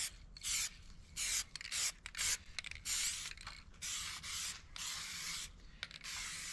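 Spray paint from a can coating a replacement fender flare for a Land Rover LR4, short close hissing bursts in quick, uneven succession with brief gaps between them.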